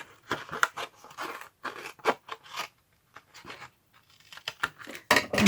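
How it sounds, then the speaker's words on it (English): Scissors snip through paper for a tunnel book journal, a run of close, crisp cuts in short uneven bursts with brief pauses between them. "I'm just going to use my scissors."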